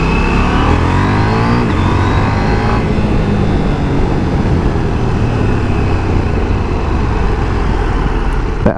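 A KTM 790 Duke motorcycle engine accelerates hard and loud with a rising rasp, shifting up through the gears in a few quick changes, then holds a sustained, close roar.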